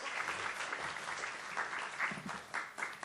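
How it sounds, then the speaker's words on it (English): Applause breaks out at a panel discussion session, a quiet, continuous patter of many hands heard from some distance for a few seconds. "Dr. Keyes claps for him at the table"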